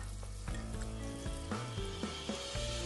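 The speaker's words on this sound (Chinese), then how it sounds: "翻炒出香味。" Scallion, ginger and garlic slices sizzle in hot oil in a clay pot, a steady close frying crackle with periodic scraping stirs of a utensil against the pot.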